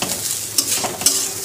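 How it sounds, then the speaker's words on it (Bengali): Pulao stirred in a pan for basanti pulao, a steady close sizzle with scraping spoon strokes that flare at intervals, no voices. "5 মিনিট নাড়াচাড়া করবো।"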